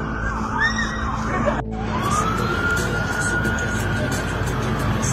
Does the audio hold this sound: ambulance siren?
yes